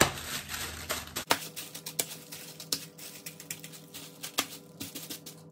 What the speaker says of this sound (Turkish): Sonra üzerinden şöyle birkaç tane bıçakla delik açıyorum.